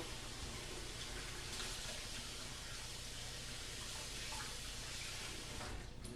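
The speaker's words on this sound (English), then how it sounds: "wash my hands over here" Tap water running steadily into a sink during handwashing in a home kitchen, a constant soft hiss and splash throughout, fairly faint with no talk over it.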